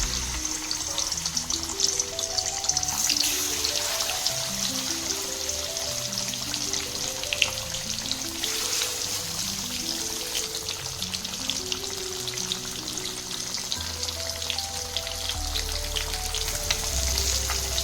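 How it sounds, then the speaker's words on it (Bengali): Rohu fish frying in hot mustard oil in a wok, a steady, loud, dense sizzle with crackling spatter running throughout, no talk over it. "মাছটা একদিকে ভালোভাবে ভাজা হয়ে গেছে"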